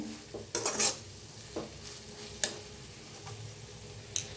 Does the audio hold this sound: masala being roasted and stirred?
yes